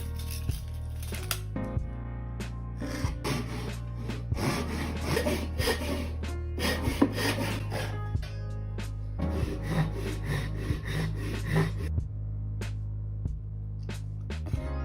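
Hand-sawing wood pieces for a lamp made from a broken desk stand, a series of rasping strokes in uneven bursts over a steady low hum in a workshop.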